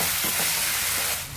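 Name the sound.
tomatoes being stirred and fried in a pan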